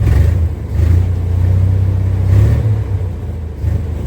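A 1962 Dodge M37 truck engine, freshly revived after sitting 45 years, runs rough and uneven as if missing on cylinders, a low steady rumble with slight lurches in pace, close and loud with no talk.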